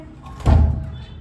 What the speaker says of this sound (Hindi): दरवाज़ा मेकअप रूम का अपने आप खुल रहा था